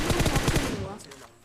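Gunfire in a battle royale video game: a rapid burst of about eight close, loud automatic shots in quick rhythm, trailing into a short fading echo.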